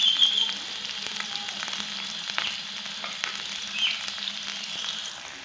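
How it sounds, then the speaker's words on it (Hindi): Onions frying in hot ghee in a pan, a steady soft sizzle with faint crackles throughout, fairly quiet and close with no talk over it. "एंड इसमें मैं प्याज डालूंगी।"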